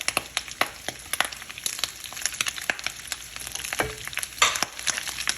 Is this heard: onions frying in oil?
yes